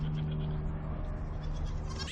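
Goats at a dairy goat farm bleat over a steady low hum, the calls soft and a little distant, with no voices.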